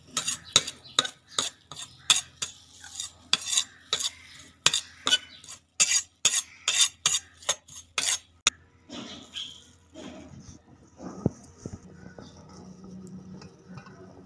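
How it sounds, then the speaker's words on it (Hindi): A spoon stirs a mix of spices in a bowl for steamed fish, giving quick, sharp, rhythmic clinks for several seconds before tapering into softer scraping and handling. "इन सारे मसालों को मिक्स कर लेना है।"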